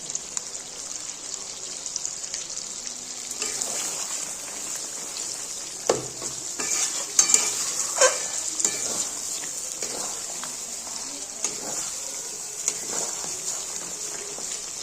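Chicken gravy simmering and being stirred after a ground paste of cashews, raisins, poppy seeds and melon seeds is added, with a steady bright sizzle and scraping spoon strokes, close and continuous.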